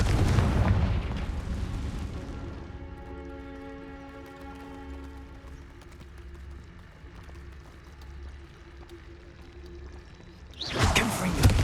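Confringo spell blasts in the Hogwarts Legacy video game: a loud burst at the start and another near the end, with a sustained tonal magical rumble and ringing between them and no talk.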